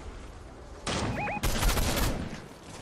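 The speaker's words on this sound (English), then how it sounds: "No, I'm getting shot from over there." Rapid gunfire erupts in a Fortnite battle royale match, a quick fusillade of close, loud shots aimed at the player that starts abruptly after a quiet moment and carries on in a dense burst.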